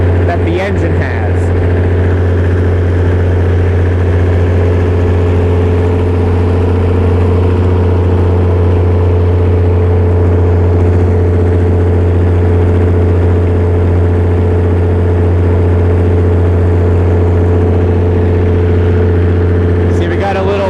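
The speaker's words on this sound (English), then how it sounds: "You can see the shudder that the engine has." A Perkins diesel generator engine runs rough with a shudder, a close, loud and steady low drone with strong deep harmonics that holds unbroken for about twenty seconds.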